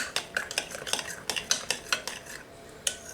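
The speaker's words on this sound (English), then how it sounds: "we're going to mix this all together very well" Pulled pork filling being mixed in a bowl with a utensil, giving repeated close scraping and clinking strokes in an uneven rhythm, with no voices.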